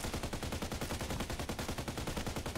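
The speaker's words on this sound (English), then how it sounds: "Only one guy shooting" Rapid automatic fire from a single enemy in a shooter video game rattles on in an even, unbroken burst of closely spaced shots, steady and moderately loud from start to finish.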